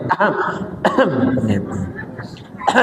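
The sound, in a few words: imitated coughing and throat clearing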